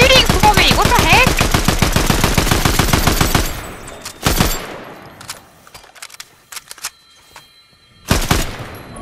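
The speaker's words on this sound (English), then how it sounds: "My gun's shooting for me." Automatic gunfire in Fortnite: a fast, steady burst of loud shots for about three seconds, then two isolated sharp bangs separated by quieter game ambience.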